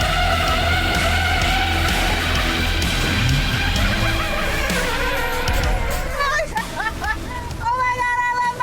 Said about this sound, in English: It's going drifting in a Mack truck.